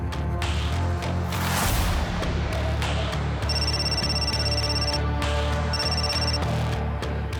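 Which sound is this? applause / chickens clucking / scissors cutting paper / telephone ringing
telephone ringing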